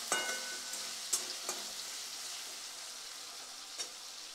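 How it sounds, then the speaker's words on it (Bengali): Tomatoes cooking with a little salt in a pan give a soft, steady sizzle, broken by a few light clicks and scrapes of stirring, quiet and close with no talking. "তো টমেটোটা সিদ্ধ করার জন্য তাড়াতাড়ি একটু হালকা নুন দিয়ে দেবো, তাহলে টমেটোটা তাড়াতাড়ি সিদ্ধ হয়ে যাবে।"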